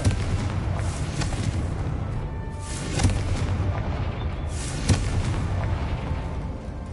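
Fiery Confringo spell blasts go off in the video game Hogwarts Legacy, several booming bursts, the sharpest near the three- and five-second marks, over a dense rumbling game background with steady texture between them.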